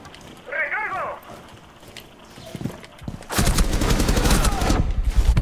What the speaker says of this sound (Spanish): me he puesto a pegarle tiros allá a lo loco